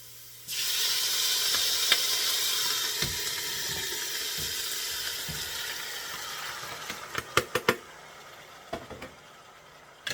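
Garlic and meat sizzle steadily in a pan, a loud continuous hiss with a few spoon or pan knocks toward the end as it is stirred.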